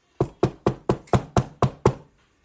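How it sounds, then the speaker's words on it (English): Eight sharp knocks on wood, evenly spaced and close by, each one dry and brief, with a quiet pause after the last. "Hopefully, knock on wood."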